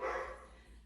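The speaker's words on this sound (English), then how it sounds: "Apologies for my dog barking." A single short dog bark, faint and somewhat distant, fading quickly.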